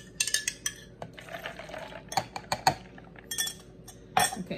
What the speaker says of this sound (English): I like to mix things around to make sure I got all this around this cup